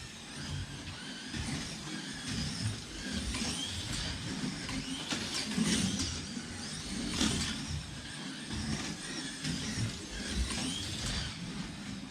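A GT3-class slot car runs steadily on a racing track, a continuous near mechanical whir and buzz of its small motor and gears that holds fairly constant throughout, with no talking.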